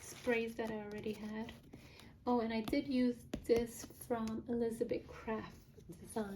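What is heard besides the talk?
None of the usual background noises is heard.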